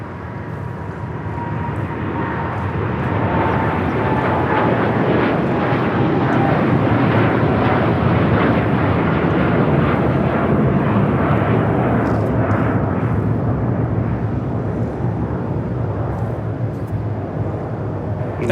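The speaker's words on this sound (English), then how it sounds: "That is United Airlines 198 taking off to Shanghai on the 787-9 Dreamliner" A United Airlines Boeing 787-9 Dreamliner takes off from Los Angeles airport, its engine roar swelling over a few seconds into a loud, broad, rumbling thrust that slowly fades toward the end, with no talking.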